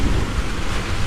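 Thunder rumbles through heavy rain during a thunderstorm, heard aboard a sailboat riding at anchor in gale-force winds. The deep, close rumble and steady downpour sound loud and continuous throughout.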